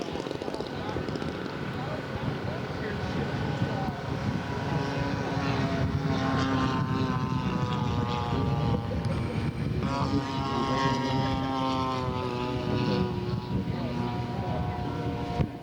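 Scale model aircraft, a Corsair among Skyraiders and Mustangs at a scale aircraft show, flying with a steady droning propeller engine whose pitch rises and falls as it passes, loud and continuous throughout.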